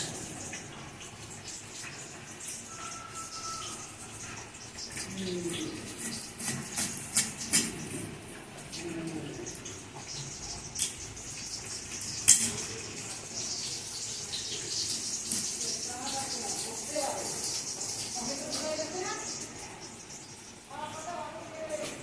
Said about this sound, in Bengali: মাছটাকে আমি ধুয়ে নেব